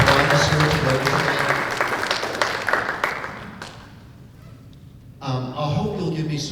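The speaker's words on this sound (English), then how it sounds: "Could you all give everybody one more applause for all of our state and local" A seminar audience on hate crime in Cheshire County applauds state and local officials, with broad clapping and crowd voices that thin out briefly before a fresh burst.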